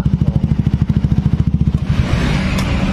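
A 2019 Honda Beat scooter cranks on its electric starter with a rapid, rhythmic chugging for about two seconds, then catches and settles into a running engine hum, close and fairly loud.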